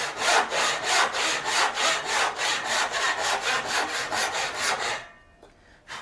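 A hand saw cuts a wooden tenon in a steady run of about a dozen brisk, rhythmic rasping strokes close by, then stops, leaving near silence and a faint final scrape.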